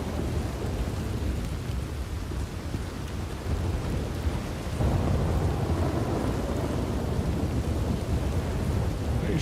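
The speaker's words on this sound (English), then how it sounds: "Pretty sure it has been stormy ever since the last, ever since I got sick. It's just been raining." Steady rain and rumbling thunder from a storm in the video game Red Dead Redemption 2, a continuous dense wash of rainfall with low thunder swelling midway, loud and unbroken with no talk.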